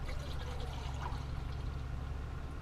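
The last water pours out of a kettle in a truck cab, a faint, steady trickle running for a couple of seconds over a low hum.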